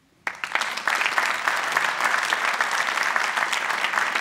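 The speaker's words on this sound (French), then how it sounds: "C'est Gilles Davoine que je vous propose d'applaudir." Audience at an opening forum event in Gland gives sustained applause that starts suddenly and holds steady and dense throughout.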